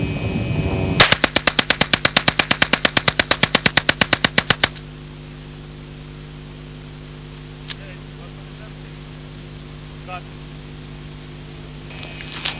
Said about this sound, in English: in the fully automatic mode to see how the weapon performs